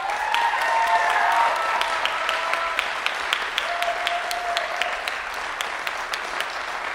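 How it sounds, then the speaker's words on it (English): Steady applause from a recital audience at the close of an artist diploma recital, moderately loud and continuous, with faint voices mixed in and individual claps standing out as it tapers. "can we get another huge round of applause?"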